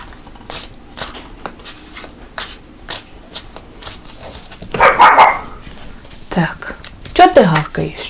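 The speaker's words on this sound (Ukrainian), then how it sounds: "Гавкає там мені за дверима." A dog barks behind a closed door, a few muffled barks heard indoors while a person talks close by over light rustling and shuffling.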